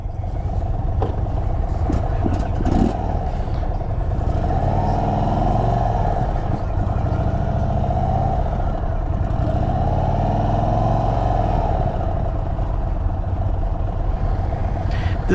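A 2025 Indian Sport Chief RT touring motorcycle carries a steady, loud engine drone and wind rush throughout, its note rising and falling gently as the rider shifts through gears on the road.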